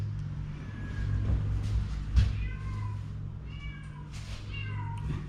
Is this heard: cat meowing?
yes